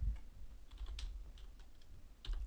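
Quiet keys clatter on a computer keyboard in a short, uneven burst of soft taps, heard close and faint with no voices.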